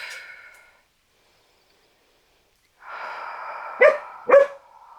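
A dog near at hand during an indoor yoga session gives a whiny, groaning vocalisation, then two sharp, close barks in quick succession, with no speech.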